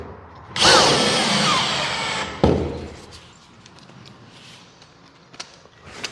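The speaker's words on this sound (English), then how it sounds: "We can hold it by that screw, offer it into place, and we'll get a fixing." A power drill drives a screw into a piece of timber during a drywall repair. It whirs loudly for about two seconds, then gives a sharp knock, followed by quiet handling sounds.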